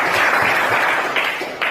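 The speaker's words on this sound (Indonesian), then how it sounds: "Tepuk tangan untuk kita semua." A classroom group applauds at the close of a school teaching-practice session on Nias island, a short burst of close, dense clapping that stays steady and fairly loud throughout.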